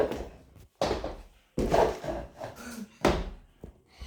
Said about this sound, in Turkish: şu sandalyeye tekme atıyor bu düşüyor o düşmüyor